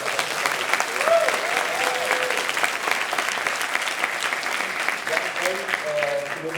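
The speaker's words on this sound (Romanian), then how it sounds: "Vreau să mulțumim cu niște aplauze" Audience applause at a grand final event, loud and sustained clapping from a large crowd that fills the space throughout, with a few faint voices and whistles mixed in.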